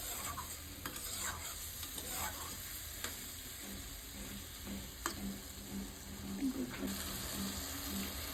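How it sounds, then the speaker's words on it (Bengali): Potato pieces stir-fried in a pan for a country chicken curry, a soft sizzle under repeated spatula scrapes and taps, close and fairly quiet, with no voices. "আলুটা দিয়ে ভালো করে কষিয়ে নিচ্ছি।"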